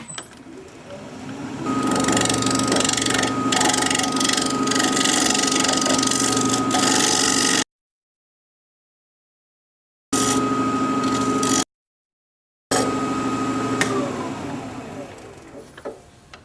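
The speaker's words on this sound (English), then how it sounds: "I'll get my mask and face shield on, and we'll get to returning this rhododendron bowl." A wood lathe spins at 1400 RPM as a bowl gouge re-turns a thin-walled rhododendron bowl, a loud steady motor whine with a cutting hiss that stops abruptly twice and winds down at the end.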